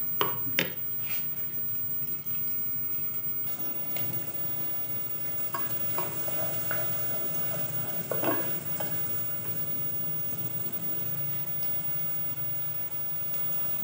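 Mixed vegetables such as potato, peas and moongre browning in a pan, with a soft steady sizzle, a few clinks of the spoon against the pan and stirring scrapes, heard fairly close and faint without talk.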